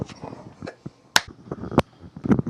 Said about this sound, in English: I'll hit a clap